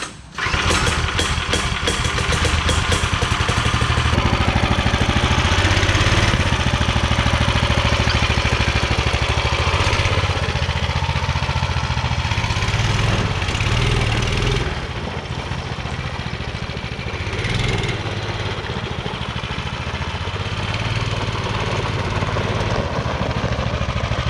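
An 18 hp go-kart engine runs steadily and loudly for the whole stretch on a test ride, with a throaty rumble that swells and eases slightly as the throttle changes.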